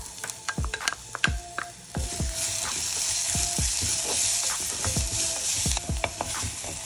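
Chopped onions sizzle loudly in very hot mustard oil in a pan, with a steady frying hiss broken by repeated sharp scraping strokes of a spoon as they are stirred.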